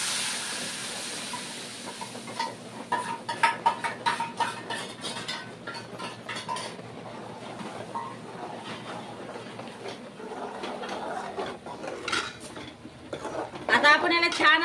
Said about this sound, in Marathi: आता आपण याला छान असं फ्राय करून घेऊया